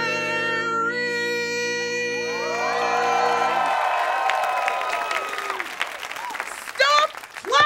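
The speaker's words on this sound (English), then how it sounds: "Stop clapping!" A studio audience at a sketch comedy show claps and cheers over a fading musical sting, with whoops building then thinning out into scattered applause.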